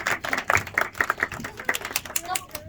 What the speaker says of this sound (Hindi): इन मैम के लिए प्लीज तालियां बजा दीजिए